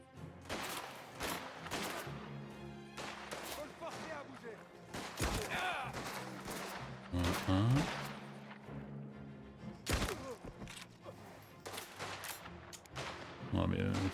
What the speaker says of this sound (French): le fusil à pompe il est pas fait pour tirer tout là-bas quoi